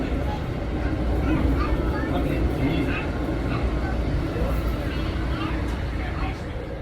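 A steady, dense hum of ambient noise fills a Chicago train station hall, constant and fairly loud throughout, with a low rumble underneath and indistinct voices murmuring in the background.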